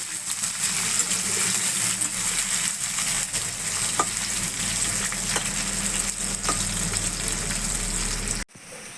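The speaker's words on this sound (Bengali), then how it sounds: "কাল্লাগুলোকে কিন্তু আমি ভালোভাবে লাল লাল করে একটু ভেজে নেবো" Kalla pieces fry loudly in hot oil in a pan, a steady close crackling sizzle with a few faint utensil knocks, running continuously until a sudden cut at the end.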